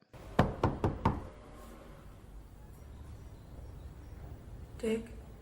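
Four sharp knocks rap on a door in a film scene, quick and evenly spaced at the start, followed by quiet room tone and a brief later thump.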